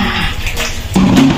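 Water splashes and pours from a bucket during a village bathroom shower, a brief close wash of sound that swells sharply near the end, with no talking.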